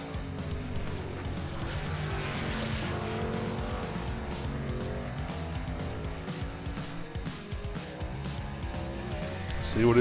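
SERL race truck pushing hard through the carousel on the Watkins Glen road course, engine revving and shifting at a distance under a race commentator's voice, swelling louder at the end.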